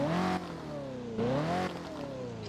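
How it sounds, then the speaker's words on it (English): A 1965 car engine in the video game Driving Empire revs up and down in three rising and falling sweeps. The tone is smooth and harmonic, steady and moderately loud, with no talking. "Let's get some revs."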